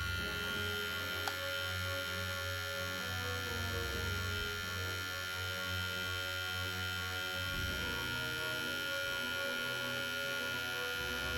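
Cronier CR-9270 hair trimmer motor running steadily at its first speed, a close, continuous electric hum with a faint click near the start.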